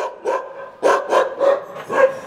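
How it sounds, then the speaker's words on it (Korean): Several dogs in an old residential neighborhood of Samyang-dong, Gangbuk-gu, Seoul bark in a quick series of sharp, repeated yaps, about six distinct barks at moderate distance, loud and clear with no talking. "강아지들이 이렇게 짖는 건"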